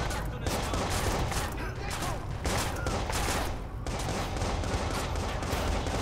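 Enemies open fire in the Watch_Dogs video game, producing dense, sustained bursts of loud gunfire that barely let up for several seconds.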